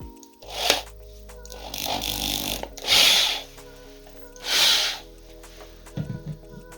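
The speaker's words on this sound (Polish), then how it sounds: "Zakładam z powrotem na wiertarkę, przeszlifuję." A drill whirs in several short bursts, each with a rough sanding hiss on a wine-cork ice-fishing rod handle, broken by quieter pauses with a faint motor hum between.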